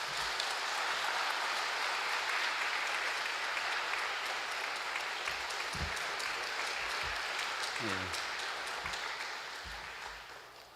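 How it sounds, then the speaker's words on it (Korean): A church congregation at a Sunday morning worship service applauds to welcome a missionary to the pulpit, steady dense clapping filling the room for about ten seconds before tapering off. "박수하겠습니다."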